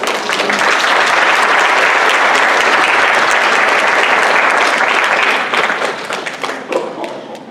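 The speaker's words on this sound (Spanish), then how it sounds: "Dale un aplauso al Señor." A church congregation bursts into loud, sustained applause, dense clapping filling the space for several seconds before thinning and tapering off near the end.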